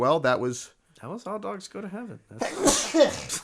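During a podcast about the animated film All Dogs Go to Heaven, a sharp, loud sneeze bursts out at the end, right after a few spoken words.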